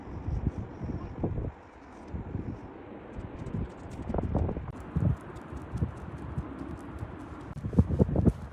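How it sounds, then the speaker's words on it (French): Horse hooves clip-clop over wet sand on the North Sea beach at Bray-Dunes, an uneven run of thudding steps that fades and returns, with wind buffeting the microphone and birds faintly in the distance. "C'est aussi l'endroit parfait pour les longues balades à cheval en bord de mer, les pattes dans l'eau"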